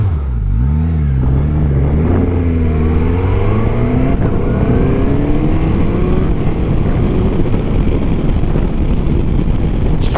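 A Suzuki GSX-S1000GX motorcycle with a K5 1000 engine accelerates hard, its engine note rising through several gear changes before settling into a loud, steady roar with heavy wind rush, close up.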